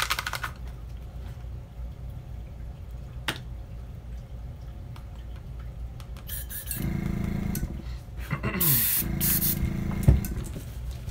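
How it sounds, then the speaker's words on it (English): An airbrush sprays paint onto a 3D-printed crankbait fishing lure in short hissing bursts, louder and sustained toward the end, with clicks and handling noises between. "you want to spray it from the front of the crankbait back so that you get as much of the black to come through as possible"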